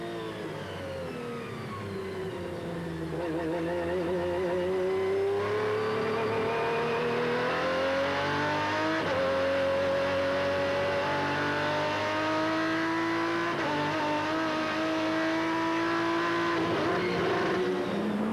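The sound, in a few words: onboard GT race car engine, throttle easing open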